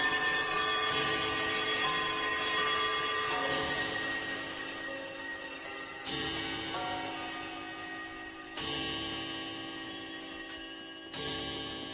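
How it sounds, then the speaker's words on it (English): Several bells ring out in turn on an album track, each strike bright and resonant, then decaying slowly before the next one sounds, with no talking. "Bells."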